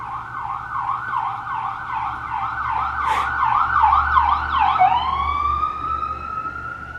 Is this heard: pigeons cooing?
no